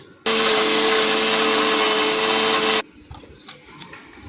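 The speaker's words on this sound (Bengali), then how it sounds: "আরও কিছুটা জাল মাছ আছে, একে বেটে নেব বড়া করার জন্য মিক্সিতে করে" An electric mixer grinder purees small fish into a paste for fritters, a loud steady motor whine running for about two and a half seconds before cutting off abruptly, followed by light kitchen clatter.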